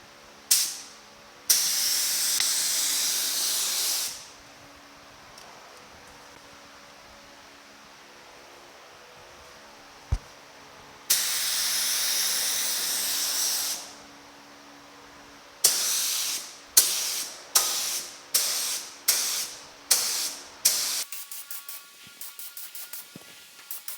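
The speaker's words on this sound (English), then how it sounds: "Let's get some spraying done." Spray gun applying paint to the underside of a 1950 Chevy truck hood: several long, loud hissing bursts of a few seconds each, then a rapid run of short spurts near the end, close-up and without talk.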